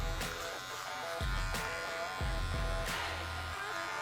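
Electric clippers taper a man's beard on the cheeks, giving a close, steady buzz broken by a few brief clicks and dips as the clippers move over the face. Nobody speaks.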